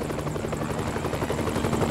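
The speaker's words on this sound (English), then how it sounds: "Really? I gotta fight a helicopter now?" A helicopter in the video game Family Guy: Back to the Multiverse gives off a steady, loud rotor thrum and engine drone that continues without a break and stands alone with no talk.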